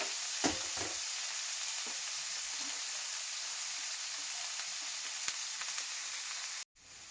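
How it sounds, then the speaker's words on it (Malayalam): Sliced onions sprinkled with salt hiss and sizzle in hot oil while a spoon stirs them, steady frying under scattered scraping taps, then a brief cut to silence near the end. "മിക്സ് ചെയ്ത് കൊടുത്തിട്ട് മെല്ലെ അത് എണ്ണക്കകത്ത് കിടന്ന് വാടി വരും."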